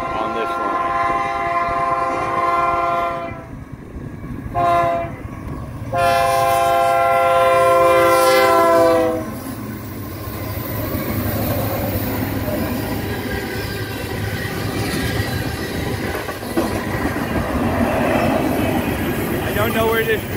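Freight manifest train passing at Gibbon Junction in Gibbon, Nebraska, its horn blaring in long loud blasts before rolling wheels and rumbling cars take over, with some talking nearby.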